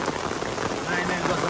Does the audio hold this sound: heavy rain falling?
yes